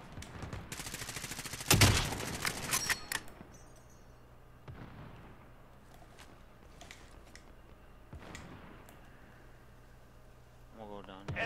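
A burst of rapid gunfire erupts early in a Call of Duty Warzone match, loud dense shots for about two seconds, followed by scattered fainter game sounds and quieter intervals.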